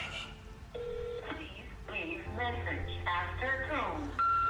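Telephone dialing and call tones from a recorded phone call: a run of clear stepped beeps and tones follows one another over a low hum and faint background voices.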